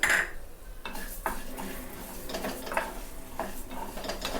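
Lentils and cumin dry-roasting in a pan are stirred with a spoon, giving close, rhythmic scraping and rattling strokes over a faint hiss.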